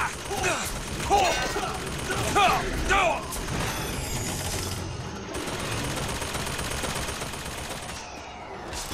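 Gunfire from weapons in BioShock Infinite, rapid clattering shots in the first few seconds mixed with mechanical rattling, then a steady noisy background of game sound, with a voice talking over it.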